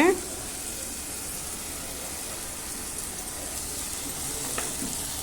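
Sautéed okra sizzles steadily in sesame oil in a clay pot over a wood-fired stove, a constant rain-like hiss with a brief clatter at the start and a faint tap near the end.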